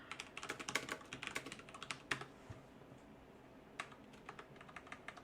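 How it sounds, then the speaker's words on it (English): Computer keyboard typing in a text editor, a quick run of close clicking keystrokes at first, then slower, sparser taps, fairly quiet with no talking. "And you can type things."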